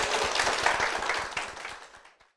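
Brief applause in a church as a guest is welcomed, a small group clapping that fades out within about two seconds.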